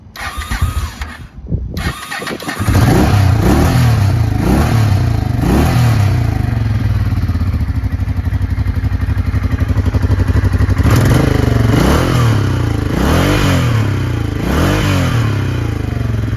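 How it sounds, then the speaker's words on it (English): A vintage 1985 Honda Shadow 500 motorcycle cranks over and fires up, then settles into a loud, steady close-up idle with a few rising and falling blips of the throttle. "Another contender for a budget bike is our vintage 1985 Shadow"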